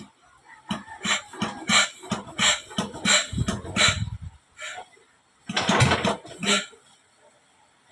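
Boat engine being started, with bursts of cranking and sputtering in two rough runs separated by a pause, loud and close.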